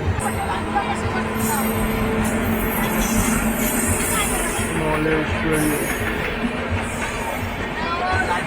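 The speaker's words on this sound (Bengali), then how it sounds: "এখন যে ট্রেনটা ক্রস করছে সেটা হচ্ছে স্মলেশ্বরী এক্সপ্রেস, মানে হচ্ছে এটা হাওড়া জগদলপুর এক্সপ্রেস।" The Samaleswari Express, the Howrah–Jagdalpur train, passes close alongside another moving train near a station, a dense continuous rumble and rattle of wheels and carriages under passenger chatter.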